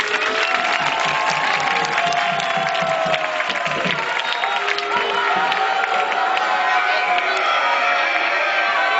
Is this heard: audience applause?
yes